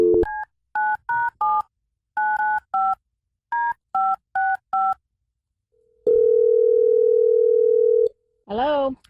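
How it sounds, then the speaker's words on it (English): On a radio show, a telephone dials out to a voicemail line: a quick series of crisp touch-tone beeps, then a long steady tone, then a short warbling ring, all loud and close. "let's give her voicemail a call"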